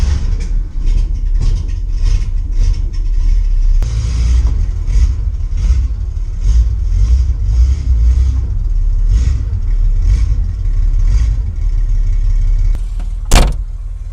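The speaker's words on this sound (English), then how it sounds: "Let's do a little test drive, see how things are working out." A Porsche 911 with a rebuilt DIY suspension drives on a test run, its engine and road noise steady and close throughout, with rhythmic thumps and a sharp high whine near the end.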